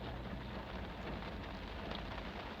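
Steady rain falls in a dense, even hiss that fills the air at a constant low level, with no voices or other sounds.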